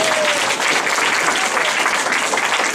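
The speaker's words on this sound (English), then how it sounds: "So let's give them one last round of applause." Audience applause for three speakers closing a talks event: dense, steady clapping from a crowd that fills the whole stretch at an even, fairly loud level.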